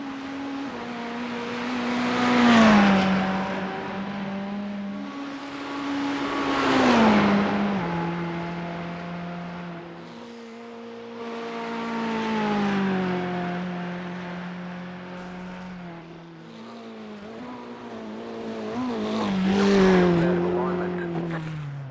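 Race car engine in iRacing's simulation of Bathurst, a harmonic drone that climbs through the gears in repeated upshifts and falls on braking, with talk running over it for the whole stretch.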